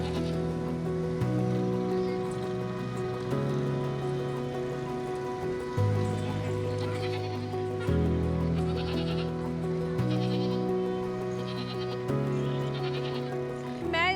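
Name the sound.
goats bleating at a livestock stall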